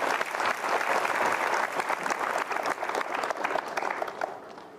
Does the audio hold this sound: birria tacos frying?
no